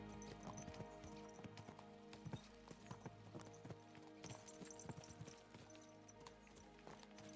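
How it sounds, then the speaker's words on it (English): Horses trotting in the video game Kingdom Come: Deliverance 2, a steady clip-clop of hooves on the ground with occasional snorts, close and continuous over a low outdoor ambience. "Let's really spur these horses on, eh?"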